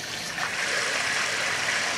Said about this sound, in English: then you get a nice stream of water come out the bottom there